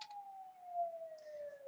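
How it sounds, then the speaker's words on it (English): An ambulance siren sounds in the background: a single sustained tone slowly gliding downward, faint and distant, with no talking over it. "sorry for the ambulance in the background"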